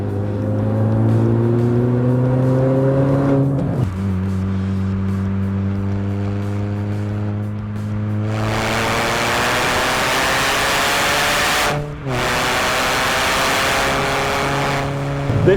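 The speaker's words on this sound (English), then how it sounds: "when you combine the sound of the supercharger and the exhaust, it does make for quite a racing car feel" A tuned Mini Cooper S with a supercharger and custom exhaust drones loudly up close, its revs climbing in long pulls with a brief break near the end before it climbs again.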